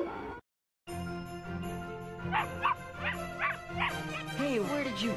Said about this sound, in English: Dogs, they're coming. They're coming your way.